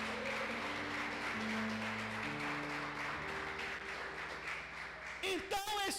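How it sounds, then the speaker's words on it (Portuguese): Sustained church congregation applause with music underneath, steady and fairly loud throughout, fading slightly before a voice cuts in at the end. "Vamos aplaudir o Senhor."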